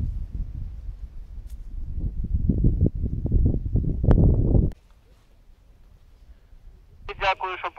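A handheld metal detector gives a short warbling, wavering tone near the end, after a stretch of loud close rustling and scraping from searching the ground outdoors.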